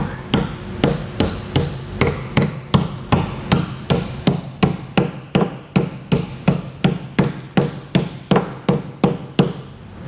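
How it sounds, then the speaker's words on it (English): Steady, evenly spaced hammer blows bending a metal trailer hitch tab flat, about two per second, sharp ringing clanks repeating for the whole stretch with no talking. "I'm just going to bend it up flat, and I'll just use a hammer to do that."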